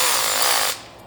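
A handheld power drill runs steadily and loud with a Meguiar's interior cleaning attachment, a continuous high whir that cuts off abruptly near the end.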